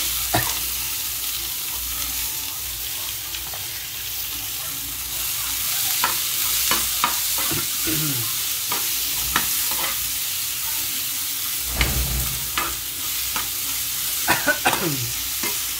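Radish and onion hit a hot pan and fry with a steady sizzle, broken by scraping stirs and occasional clatters of a spatula against the metal, fairly close and with no voices.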